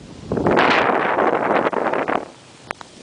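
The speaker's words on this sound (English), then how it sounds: "Here comes the wind." Wind gusting during a 2011 ice storm in Imperial, Missouri, a loud rushing roar against the microphone that builds, holds for about two seconds, then drops away.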